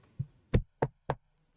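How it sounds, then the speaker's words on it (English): Four dry knocks on wood, close and fairly quiet: one soft tap followed by three sharper raps in an even rhythm, with nothing else heard. "Knock on wood."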